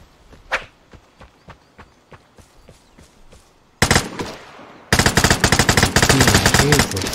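Gunfire from the tactical looter shooter game Vigor: scattered single shots early on, then a loud, dense burst of rapid automatic fire from a light machine gun that fills the second half.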